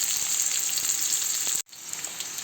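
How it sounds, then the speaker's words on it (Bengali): Lightly parboiled potato pieces fry in hot oil with a close, dense sizzle and small crackles. It breaks off sharply for a moment and then resumes. "আলুটাকে একটু ভালোভাবে ভেজে নেব, লাল লাল করে ভেজে নেব।"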